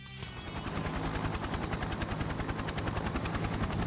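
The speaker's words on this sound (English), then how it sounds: "the faint sound of a helicopter begins." Helicopter rotor chopping in the video game Persona 4 Arena Ultimax, a steady rapid thudding pulse that swells in and holds loud and continuous, with no speech over it.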